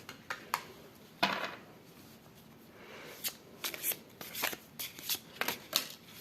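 Oracle of the Radiant Sun tarot cards being handled and shuffled, giving soft papery riffles and sharper flicks in irregular bursts, close and fairly quiet, with no talking.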